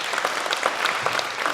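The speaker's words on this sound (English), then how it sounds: "a round of applause for Rahul again" After a startup legal talk, the audience gives a short, even burst of applause, a dense patter of clapping at moderate loudness with no voices.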